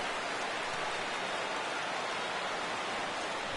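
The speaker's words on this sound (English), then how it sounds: "And Dan, when it comes to pitching in the rain, what changes?" Steady rain in the MLB The Show baseball video game forms a dense, even hiss that holds unbroken across the whole stretch, with no voices over it.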